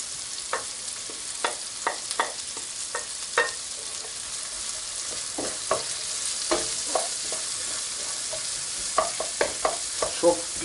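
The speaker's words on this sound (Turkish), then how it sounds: "Soğanlarımızı da ilave ediyoruz." Squid and onions fry in olive oil in a pan with a constant soft sizzle, while a utensil scrapes and stirs in irregular taps and clatters close by, and no one speaks.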